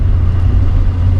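A Peugeot 205 1.9 GTI engine runs on a wet road in a loud, steady low rumble that holds at an even pitch with no talking.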